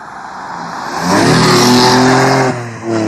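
Saturn L300 with a 3.0 V6 and a new intake revs hard, the engine note climbing to a loud, sustained roar before dropping off and picking back up, close and alone.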